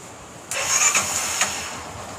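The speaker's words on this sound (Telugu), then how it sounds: "నేను ఫస్ట్ ఆఫ్ ఆల్ ఏం చేస్తానంటే బండి అయితే స్టార్ట్ చేస్తాను" A Hero Karizma motorcycle engine cranks and fires up nearby, then settles into a steady idle with a couple of small revs, all close and loud with no talking.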